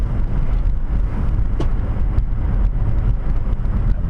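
A car cruises at speed on a road wet from melting snow, a steady loud rumble of tyres and engine with hissy spray and occasional faint ticks, heard from inside the car without talk.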